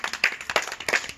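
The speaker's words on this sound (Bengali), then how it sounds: "তার জন্য একটা জোরে হাততালি।" Brief burst of audience clapping for a first-prize winner at a women's game event, a few quick irregular claps over about a second.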